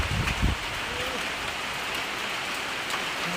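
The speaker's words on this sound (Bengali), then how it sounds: "বৃষ্টি শুরু হয়েছে।" Rain falls in a dense, steady hiss on outdoor surfaces, with a brief low thump near the start, close and continuous with no talking.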